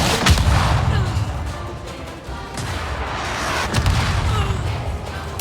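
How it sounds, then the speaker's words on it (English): A missile launcher firing in the video game Avatar: Frontiers of Pandora, heavy booming blasts with rumbling low-end impacts recurring every second or so, loud and close over continuous battle noise. "Missiles! Right, I have to take that launcher out."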